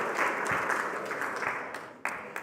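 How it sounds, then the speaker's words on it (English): Audience applause fills a conference hall at Bitcoin Day Naples 2026, a dense, steady clatter of many hands clapping throughout, with a couple of sharper claps standing out near the end. "One more round of applause for CJ making real-world Bitcoin applications."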